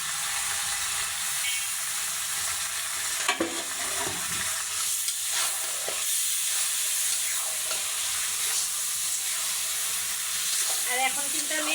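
Fresh chicken breast meat frying in hot oil, a steady broadband sizzle with bursts of stirring and scraping in the pan, close and continuous with no talking.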